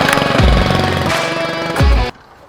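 A small engine is yanked with its pull cord and nearly catches: loud, rough sputtering bursts with rising and falling revs from two quick pulls, ending abruptly in near silence.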